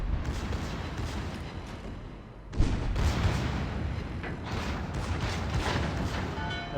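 Warship guns boom in a naval video game, with a low rumbling barrage and a sharp, heavy blast partway through, followed by continued distant firing.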